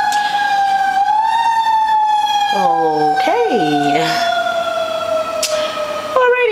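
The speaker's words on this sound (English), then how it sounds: "It's an ambulance." An ambulance siren wails steadily outside at moderate distance, heard through an open window, its pitch holding then rising and falling in sweeps, with a brief spoken word near the end.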